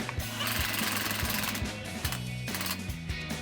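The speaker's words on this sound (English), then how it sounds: "go ahead and use my impact just to snug it up a bit" Impact wrench snugging a bolt on a rear trac bar relocation bracket of a 2021 Ford Bronco, a rapid rattling hammering running continuously at close range, fairly loud, with no talk.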